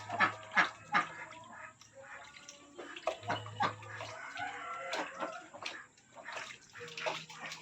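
Well-fed chicks peep in short, irregular high bursts, close by, mixed with splashy, watery noises and scattered clucking-like sounds from the barnyard, with no talking.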